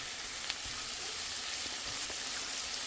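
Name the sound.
garlic sizzling in a pan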